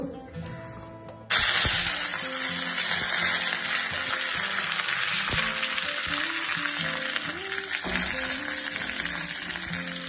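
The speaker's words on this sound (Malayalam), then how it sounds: "എണ്ണ കടുവറുക്കാൻ വേണ്ടിട്ട് ഒഴിക്കുന്നുണ്ട്" Mustard seeds fry in hot oil for tempering a papaya pulissery; a quiet start gives way to a loud, dense sizzle that holds steady and close for the rest of the clip.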